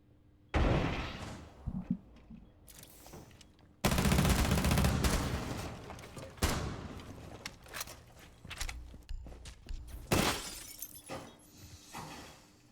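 Gunfire in an esports video game match: loud bursts of rapid shots and sharp cracks, with glassy shattering impacts, coming in several clusters separated by short quieter gaps.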